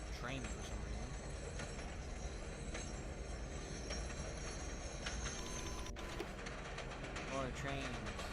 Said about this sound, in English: Oh, now I'm on a train for some reason.